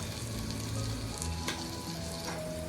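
Masala spices, turmeric, garam masala and Koli-style chilli powder, sizzle loudly in a hot pan, a dense, continuous crackle close by with soft stirring scrapes and no talk.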